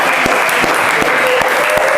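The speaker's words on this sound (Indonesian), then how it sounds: "Tepuk tangan untuk kita semua." A classroom of students gives a short, brisk round of applause, dense and steady clapping throughout at close range.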